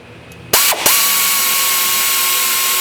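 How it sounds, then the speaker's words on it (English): An air ratchet fires in a loud short burst, then a second brief burst, while tightening the differential cover bolts on a 1994 Ford Mustang GT, leaving a steady hiss of air and a humming compressor behind it. "Now I'm gonna tighten with"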